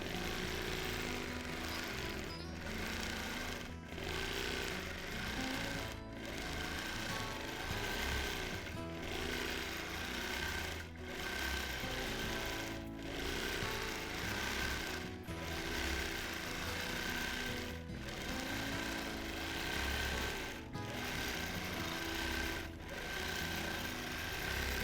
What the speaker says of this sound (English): that did not change the popping at all, so I'm going to say it's just the fabric